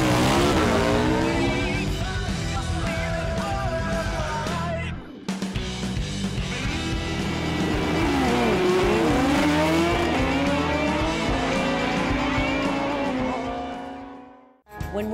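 A 159 cubic inch Pro Drag motorcycle engine with huge throttle bodies, Jesel heads and a 3-speed B&J transmission revs loud and close, a sustained roar with pitch sweeping up and down before cutting off near the end.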